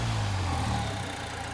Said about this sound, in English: that was the intake, so that sounds real good